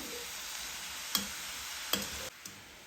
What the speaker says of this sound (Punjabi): ਹਾਲ ਨੂੰ ਆਪਾਂ ਲਗਾਤਾਰ ਹਿਲਾਉਂਦੇ ਹੋਏ ਭੁੰਨਣਾ ਹੈ